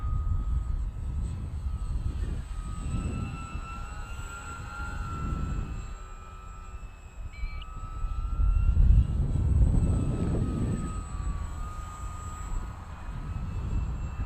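Dynam P-51D Mustang electric RC model plane flying outdoors in wind, its motor whine rising and fading as it passes, with gusty wind rumble underneath and no talk.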